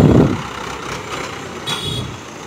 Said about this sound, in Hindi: ये किसान भाइयों देखिए आ रहा है महिंद्रा 475, चार चक्के की ट्रॉली नाद रखा है, बालू से लोडेड ट्रॉली है किसान भाइयों।